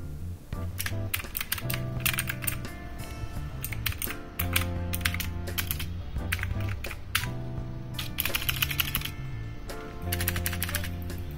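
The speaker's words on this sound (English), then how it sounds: "So let's hear how the keyboard sounds." Typing on a Havit LED mechanical keyboard with low-profile switches: a steady run of crisp, close keystroke clicks, some in quick bursts, over continuous background music.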